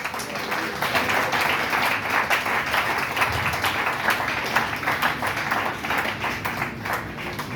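A church congregation at a Pentecost marathon service in Pointe-Noire applauds and cheers for the Lord, a steady, dense wash of clapping and voices sustained throughout at fairly loud level.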